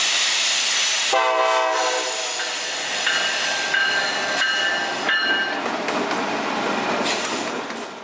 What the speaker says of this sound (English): now this northbound manifest is going by